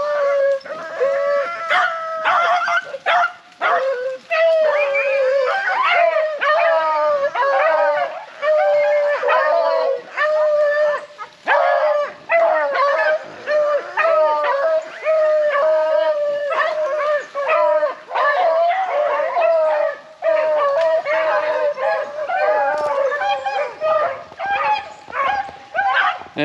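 A pack of rabbit beagles baying while running a track, a continuous chorus of overlapping howls, yips and barks, loud and fairly close throughout, with a little talk underneath.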